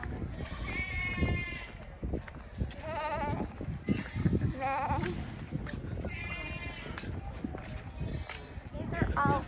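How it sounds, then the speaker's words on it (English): Female dairy goats bleat repeatedly in a milking pen on a goat farm in Oahu, Hawaii, several overlapping calls near and far over a busy background, with people talking. "These are all female goats, since this is where all the goats that are gonna be milked are."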